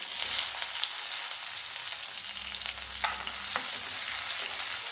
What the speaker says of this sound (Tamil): நான் பெரிய வெங்காயம் போட்டுக்கிறேன்.